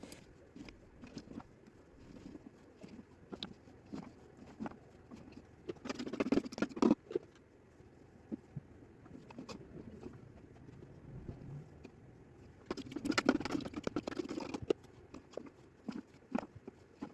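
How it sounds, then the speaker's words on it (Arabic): Turnip pieces dropped one after another into a jar of pickling brine, a steady run of close taps and soft splashes with two busier bursts of clattering, no talk. "بعد كده نبدأ نحط فيه اللفت."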